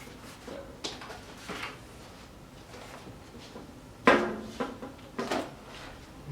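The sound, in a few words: FMS P-51 model plane retractable landing gear operating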